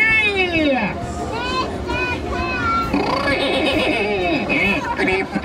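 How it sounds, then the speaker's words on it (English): A children's audience at a Punch and Judy puppet show shouts loudly and together, a sustained high-pitched chorus of many young voices calling out, rising and falling, with chatter around it. "So let's see who can call for Mr. Punch the loudest after three"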